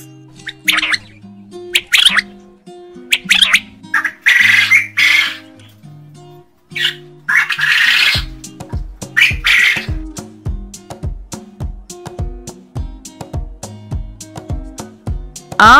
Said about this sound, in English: Quail. And the sound of the quail is...